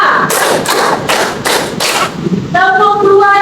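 A classroom of students claps in unison, five sharp broadband claps in an even rhythm, loud and close, followed by a teacher's voice speaking.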